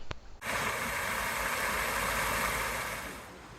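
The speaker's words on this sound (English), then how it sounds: "I like the sound of running water" Water rushes steadily through lock number 4 on a canal, a loud, close broadband hiss that starts abruptly and then fades slightly near the end.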